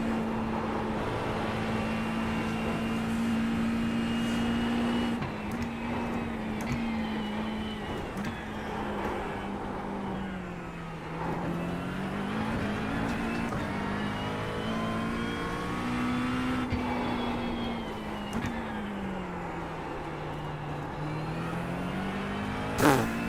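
GT3 race car engine at full throttle in iRacing at Bathurst, a loud continuous drone rising and falling through gear changes and revs, close and steady without talk.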